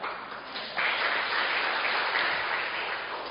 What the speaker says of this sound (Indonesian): Beri tepuk tangan, saudara.